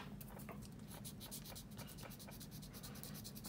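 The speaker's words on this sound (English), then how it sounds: "Just sand away." A plastic part of a 1/48 Kinetic F-16B scale model is sanded by hand, making quiet, rapid back-and-forth scratching strokes close up, with no talking.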